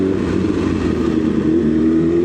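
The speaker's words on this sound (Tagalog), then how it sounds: "First time dadaan ng naka motor." A BMW S1000 RR sport motorcycle runs steadily at low speed through an expressway toll gate, its engine a loud, close, continuous hum with a slight rise in revs and no pauses.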